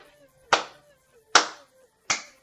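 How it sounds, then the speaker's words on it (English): Three slow, deliberate hand claps spaced nearly a second apart, sharp and close with quick decays into near silence between them. "Slow clap, people. Slow clap."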